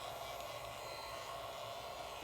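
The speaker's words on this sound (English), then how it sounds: "I'm running the heat gun on low" A heat gun on its low setting, used while fitting rubber adhesive grips onto a Kel-Tec SUB-2000, blows a steady, loud, broadband airy roar with no breaks and no talk.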